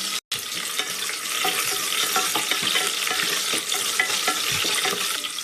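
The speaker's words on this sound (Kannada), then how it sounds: "ಎಣ್ಣೆ ಬಿಸಿ ಆಗಿದೆ ಸಾಸಿವೆ ಹಾಕ್ತಿದ್ದೀನಿ ಈರುಳ್ಳಿ ಸೇರಿಸ್ಕೊತಾ ಇದ್ದೀನಿ ಕರಿಬೇವು ಸೇರಿಸ್ಕೊಂತ ಇದ್ದೀನಿ" Mustard seeds, onion and curry leaves fry in hot oil, a loud, dense, continuous sizzle with crackles and a brief gap near the start, heard up close with no talking.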